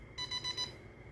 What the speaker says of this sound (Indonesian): Jadi alarmnya bunyinya kayak gini.